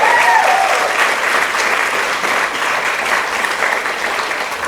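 A real estate event audience breaks into loud, sustained applause, a dense even roar of clapping close by. A faint voice rises briefly at the start.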